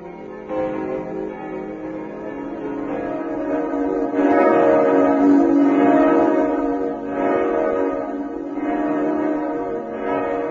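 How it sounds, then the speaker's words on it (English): Church bells of Christian churches ring out in Nazareth, Israel, a steady overlapping peal of tolling bells that swells in loudness midway and continues throughout, with no talking. "Church bells also ring out in Israel, bells of many Christian churches, especially in Nazareth"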